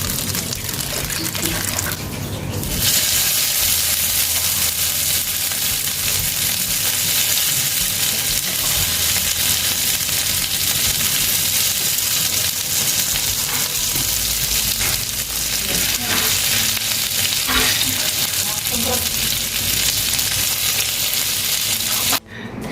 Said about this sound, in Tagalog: hindi talaga ako nagsalita para marinig nyo yung pag-sizzle